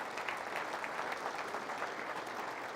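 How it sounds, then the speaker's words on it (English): A room full of ranchers at a 2015 grassfed conference claps for the event's sponsors, a soft, fairly distant patter of many hands that holds steady throughout. "I would certainly appreciate a round of applause for our sponsors."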